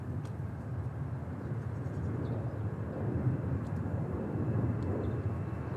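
Airliners departing from DFW airport, a steady distant jet roar rumbling continuously in the background, faint and broad with no voices over it.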